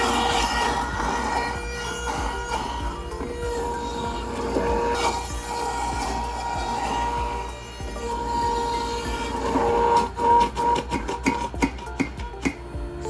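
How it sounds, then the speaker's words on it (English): A cold press juicer grinds celery for a cucumber-celery juice, a steady mechanical whir and rumble running throughout, with rhythmic crunchy knocks growing stronger near the end, no talk. "let's grind our celery"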